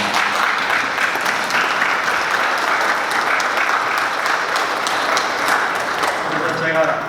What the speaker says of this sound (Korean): 우리 강태진 학장님한테 박수 한번 드립니다.